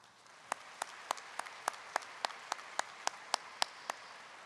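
Sparse, slow applause at a high school graduation ceremony as the audience honors parents, a dozen distinct claps spaced evenly and fairly faint against quiet room noise.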